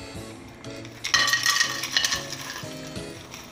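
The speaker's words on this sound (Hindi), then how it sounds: "अब इसके अंदर डालेंगे 4 गोंद और ये मैंने ली है 250 ग्राम। इसे हम थोड़ा थोड़ा करके फ्राई करेंगे।" Gond, an edible gum, frying in hot ghee in a pan, a bright crackling sizzle that flares up suddenly and then settles to a steady fizz, with occasional soft metallic clinks of a spoon stirring.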